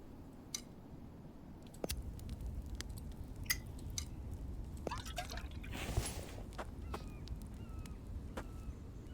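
Water drips one drop at a time into a container inside a video game, a sparse, uneven run of small plinks over a steady low hum, with a short gurgling pour partway through.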